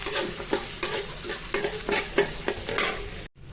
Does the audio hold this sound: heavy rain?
no